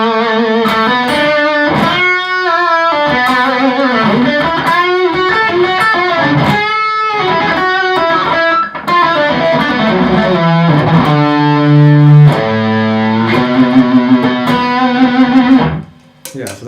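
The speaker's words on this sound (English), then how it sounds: "for certain layers I used this Black Star HD dist pedal, and this is another distortion pedal." An electric guitar runs through a Black Star HD distortion pedal and a second distortion pedal, giving loud, thick, saturated chords and sustained notes that play continuously for about sixteen seconds before cutting off.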